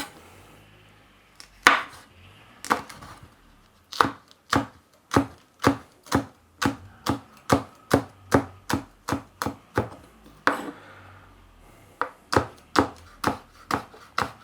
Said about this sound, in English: And we're going to chop it nice and fine.